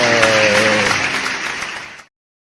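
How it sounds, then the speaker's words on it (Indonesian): Classroom children clap together in a short burst of applause with a few voices mixed in, loud at first and thinning before it cuts off abruptly. "Tepuk tangan buat semua."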